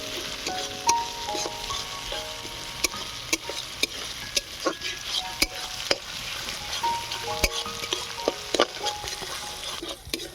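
Ginger, garlic and onion fry until browned in a pan, a continuous low sizzle punctuated by sharp, regular clicks and taps of a spatula against the metal, close and fairly quiet, with no one talking.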